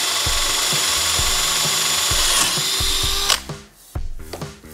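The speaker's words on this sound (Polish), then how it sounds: "Wiertarko-wkrętarka, test na wiercenie w drewnie przeszła bardzo dobrze." A Parkside PBSA 20-Li A1 20 V cordless drill-driver, set to second gear, bores into wood with a loud, steady whine that builds for about three seconds, then cuts off abruptly, followed by a few quieter handling knocks.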